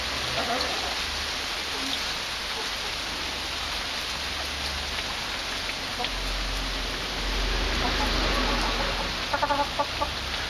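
Chickens cluck in short scattered bursts while sheltering from heavy rain, which hisses steadily throughout and swells louder for a stretch; a few sharper clucks come near the end.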